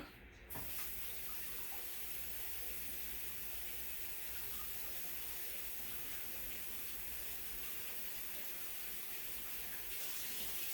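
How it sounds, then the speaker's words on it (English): Tap water runs steadily into a sink as dirty gloves are washed under it, a continuous close rushing spray that holds at an even level throughout. "just going to wash my gloves off because they're just way too dirty right"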